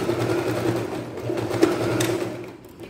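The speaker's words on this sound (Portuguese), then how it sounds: "Depois você dobra e passa uma costura assim." A sewing machine runs steadily, stitching a folded seam on a simple blouse, with a continuous close motor hum and rapid needle rhythm that eases slightly toward the end.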